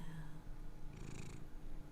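A cat purrs close to the microphone, a soft continuous rumbling vibration with a faint higher squeak in the middle, in a quiet indoor room.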